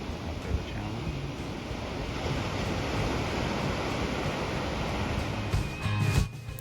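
Ocean waves break on a Carpinteria beach in winter, a constant roaring wash with wind buffeting the microphone and a louder surge near the end.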